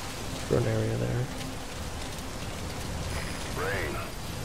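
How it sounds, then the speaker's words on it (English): Rainfall in Metal Gear Solid 5 hisses as a steady, even wash of drops, with short game voice and tonal sound effects briefly rising over it. "The sound of rainfall should help to mask your footsteps."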